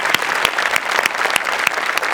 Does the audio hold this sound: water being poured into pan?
no